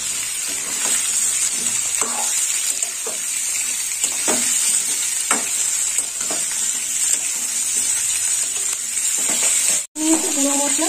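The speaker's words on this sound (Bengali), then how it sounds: "দিয়ে দিলাম এঁচড়। এঁচড়টা এবার কষে নেব।" Boiled raw jackfruit is stir-fried in a hot pan, with a steady bright sizzle and hiss broken by repeated scraping stirs, close and loud, with a brief break and clatter near the end.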